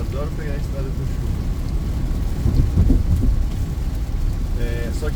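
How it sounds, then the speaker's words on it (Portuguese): Heavy rain drums on a Peugeot 2008 AL4 climbing the Santos mountain road, a steady broadband wash with low road and engine rumble, with brief tonal beeps near the start and end. "gravar já não é tão legal, porque tem o barulho da chuva e tal"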